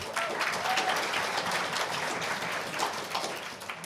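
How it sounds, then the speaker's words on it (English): An audience at an anniversary partnership gathering applauds, a steady wash of clapping from many hands that holds throughout and tapers slightly at the end. "So if you give a round of applause for Liz Zeidler, please."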